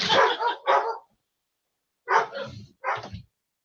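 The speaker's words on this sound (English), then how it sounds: "both dogs are now very excited" Two dogs barking excitedly indoors, muffled as if heard through a closed door or floor: two quick barks, a pause, then two more bursts of barking.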